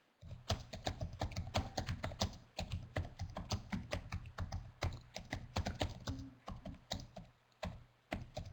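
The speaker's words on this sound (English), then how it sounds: "We're getting lots of typing" Busy, irregular clatter of several people typing on computer keyboards during a webinar, close and steady with brief pauses, keystrokes overlapping.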